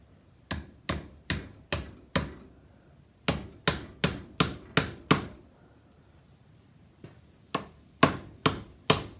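A hammer drives a supercharger blower mount into place on a Postie bike build, giving three groups of sharp metallic smacks: five blows, then another five, then four, each strike crisp, close and evenly paced.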